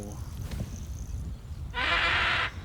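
The hippogriff Highwing in Hogwarts Legacy lets out one brief, harsh, bright screech-like call near the end, after a stretch of low rumbling ambience.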